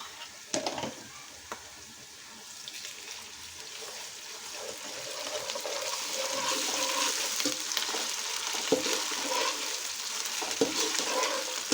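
Browned onions with ginger-garlic paste frying for vegetable biryani, a soft continuous sizzle that grows steadier, with occasional scraping stirs of a spoon in the pan, close and without talk.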